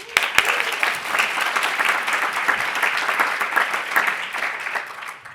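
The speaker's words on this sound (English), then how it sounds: "Big round of applause." Audience applause at the PyData London 2022 lightning talks and closing session, loud sustained clapping from a room full of people with dense, even claps throughout.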